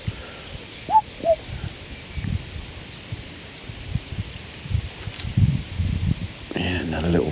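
A single distant two-note common cuckoo call sounds early on, over outdoor rustling, faint insect ticks and scattered bird chirps at a carp fishing spot.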